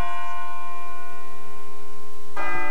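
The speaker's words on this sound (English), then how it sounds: "It sounds like a bell, but where's it coming from?" In the video game Persona 3 Portable, a bell-like tone holds a steady sustained ring, and a fresh louder strike lands near the end.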